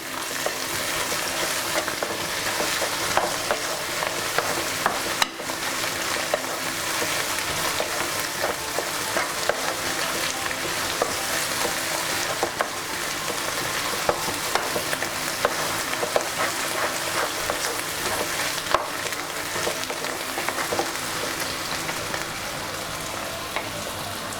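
Egg bhurji in a frying pan, seasoned with salt, sizzles continuously for a long stretch, with a dense hiss and repeated close spatula scrapes and taps as it is stirred.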